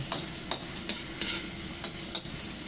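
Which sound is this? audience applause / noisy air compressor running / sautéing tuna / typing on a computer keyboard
sautéing tuna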